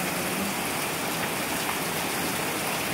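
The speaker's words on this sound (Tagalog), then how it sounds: "Ayan, lakas ng ulan." Heavy habagat monsoon rain pours steadily outdoors, a dense, constant broadband hiss of downpour striking surfaces with no pauses and no voices.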